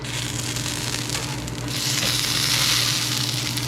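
Frozen birria tacos sizzle on a hot griddle, giving a loud, continuous hiss that swells a little partway through.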